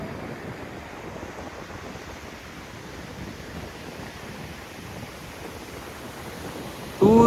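Sea waves wash onto Manori Beach, a long, clean, straight stretch of sand, as a steady broadband surf roar with wind, fairly loud and unbroken, ending in a sudden louder burst.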